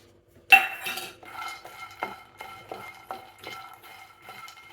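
Fox nuts (makhana) are heated in a pan, stirred with a utensil that gives a series of light scraping and clinking sounds, quiet and close, with no talk.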